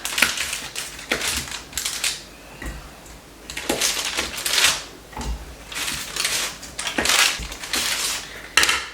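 Knife cutting softened butter into smaller pieces, a series of close crunchy taps and scrapes against the board, irregular in rhythm.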